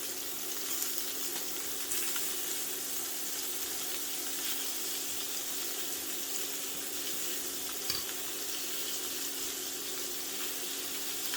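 Steak sizzles steadily in a cast iron pan with butter, a constant broadband frying hiss at close range with small pops, no voices.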